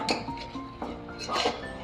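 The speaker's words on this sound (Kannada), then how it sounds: "ಎಲ್ಲ ಒಂದು ಒಳ್ಳೆ ಮಿಕ್ಸ್ ಕೊಟ್ಬಿಡೋಣ." Spoon scraping and clinking against a pan while fenugreek-leaf rice mixture with turmeric is stirred, a few quick metallic knocks and scrapes close by, no talking.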